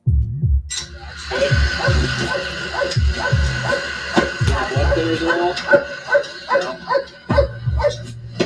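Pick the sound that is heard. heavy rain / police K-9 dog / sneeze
police K-9 dog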